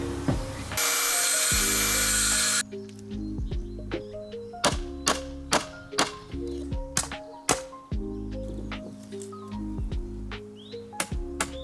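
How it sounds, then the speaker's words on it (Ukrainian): Wooden bars for a greenhouse door are cut with a power tool: a steady loud whine for about two seconds, then a run of sharp knocks and thuds at irregular intervals, close by with no talk. "відрізаємо два бруски, це буде ширина дверей"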